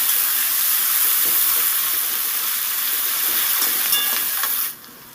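Chopped onions frying in a pan for an okra and potato curry, a steady close hiss of sizzling oil that runs unbroken for most of the stretch and then cuts off abruptly near the end.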